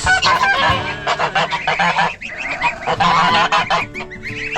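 A goose honks loudly and repeatedly at close range in a farmyard, harsh calls coming in quick bursts with a brief pause midway and no talk over them.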